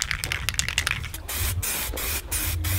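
An aerosol spray can hisses onto car wheels in a backyard, several short bursts at first, then longer continuous sprays, loud and close with no talking.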